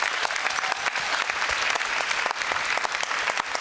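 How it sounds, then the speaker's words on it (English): An audience at a Paris Peace Forum stage session breaks into sustained applause, thick and even, with countless hands clapping at once and staying loud from start to finish. "Please join me in a round of applause"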